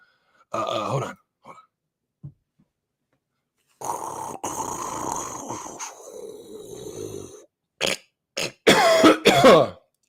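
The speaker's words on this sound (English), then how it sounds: "I really am coughing." Several rough coughs and throat-clearing bursts, close and fairly loud, separated by short silences, with a growly vocal quality toward the end.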